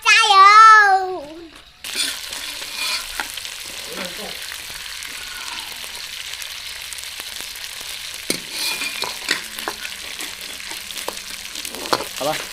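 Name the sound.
catfish frying in a pan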